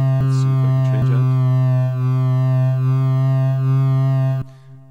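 A steady synthesizer tone sustains with a buzzy, harmonic-rich timbre, brief glitchy blips near the start, then cuts off abruptly into near silence.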